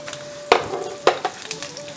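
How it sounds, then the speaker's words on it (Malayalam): Raisins and cashews fry in ghee while being stirred: a soft sizzle under a few sharp, close spoon clacks against the pan in a short burst. "ഈ മുന്തിരി ഒന്ന് വീർത്ത് വരുന്നവരെ ഇളക്കി കൊടുക്കുക കേട്ടോ"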